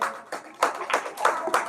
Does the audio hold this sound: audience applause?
yes